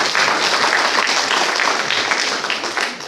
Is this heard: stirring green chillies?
no